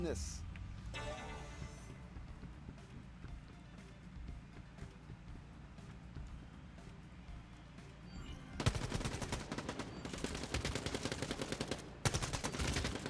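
Gunfire from a weapon in the fast-paced arcade shooter Quantum League, rapid automatic bursts cracking in two loud volleys after a quieter stretch with talk, shots in quick succession.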